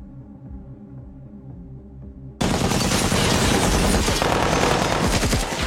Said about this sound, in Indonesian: Mereka yang masih berada di bawah langsung mengerahkan pasukan untuk memberondong kamar dengan tembakan.